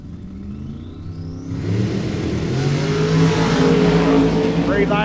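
Top Sportsman drag race cars launching in the final round, engines rising from a low rumble into a loud, building roar that stays near and keeps swelling, with an announcer talking over it.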